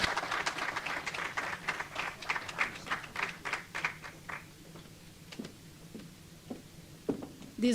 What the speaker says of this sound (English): A round of applause for the Minister, Ibrahim Massi